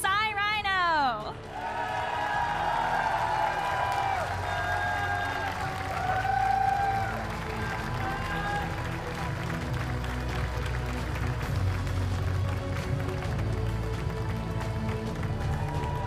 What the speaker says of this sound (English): a huge round of applause for our 2026 Pokemon Go North America International Champion, Cy Rhino